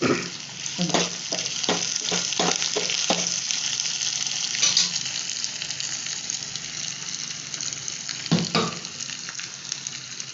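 Onion and curry leaves hit hot oil with a steady, close crackling sizzle, punctuated early on by a few sharp stirring scrapes and another clatter near the end.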